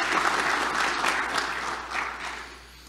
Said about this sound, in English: Applause for everybody who has really helped out.